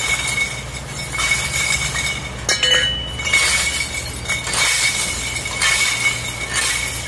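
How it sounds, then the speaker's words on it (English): Broken glass wine bottles spilled from a truck load being cleaned up, with repeated clinking and scraping of glass shards over steady outdoor background noise, close and fairly loud. "there's a whole lot of glass there to be cleaned up"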